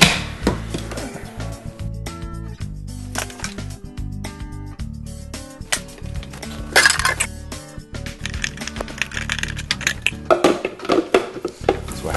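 Dishes and metal kitchenware clatter and clink in a kitchen as a food processor is pulled out, a dense, loud run of rattling, knocking and jangling impacts that continues throughout.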